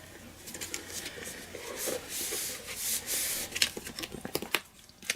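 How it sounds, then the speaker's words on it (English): Card paper being folded over and creased into a Z fold, close soft rubbing and scraping strokes with a few sharper crinkles near the end, quiet and with no talking. "Fold the card over, fold that back"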